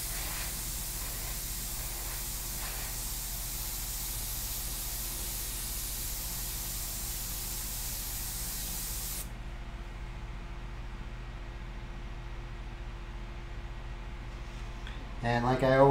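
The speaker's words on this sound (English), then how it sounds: "always test out the airbrush, making sure you're getting a good flow" An airbrush loaded with sepia paint sprays in a steady, close hiss for several seconds, then cuts off, leaving quiet room tone before a short rustle at the end.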